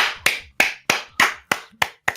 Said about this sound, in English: That's the GM clapping for you guys.